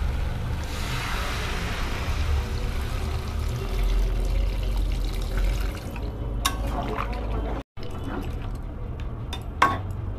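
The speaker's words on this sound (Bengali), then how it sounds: "এবারে পরিমাণ মতো ঝোল বাড়িয়ে নিচ্ছি বন্ধুরা" Water pours into simmering curry gravy in a steady, moderately loud rush that fades into a few faint drips and small clinks near the end.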